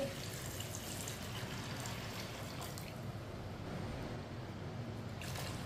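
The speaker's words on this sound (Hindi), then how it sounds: "2 गिलास पानी डालेंगे।" Two glasses of water pour steadily into a cooking pot of black-eyed beans, a continuous close rushing splash with no breaks.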